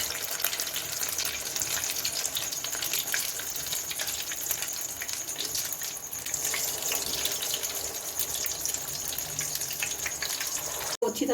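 Cheesy bread balls dropped into hot oil give off a steady, dense frying sizzle. It runs loud and unbroken for the whole stretch, with no talking over it.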